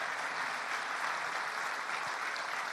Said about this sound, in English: Give these people who have shaped and touched my life in different ways a big round of applause